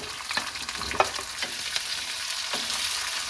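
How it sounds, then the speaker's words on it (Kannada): Green chillies and chopped onions sizzle and fry in hot oil with crackling mustard seeds and cumin, a steady close crackle with occasional sharper pops and stirring scrapes throughout. "ಇದೇ ಟೈಮಲ್ಲಿ ನಾನು ಇದ್ರೊಳಗಡೆ ಕಟ್ ಮಾಡಿ ಇಟ್ಕೊಂಡಿರೋ ಮೆಣಸಿನ್ಕಾಯಿ ಹಾಗೆ ಈರುಳ್ಳಿನ ಹಾಕ್ಕೊಳ್ತೀನಿ"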